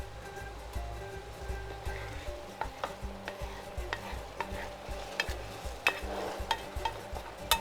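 A spoon stirring sutlijash rice pudding in a pot on the stove, with a soft continuous scraping and bubbling, steady and close, with no talk.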